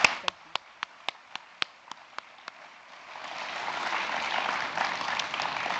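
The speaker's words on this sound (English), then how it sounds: "Just one more round of applause for Christina," About nine sharp, spaced claps ring out alone at a morning plenary session of a conference, then dense audience applause for Christina swells in and continues steadily at moderate level to the end.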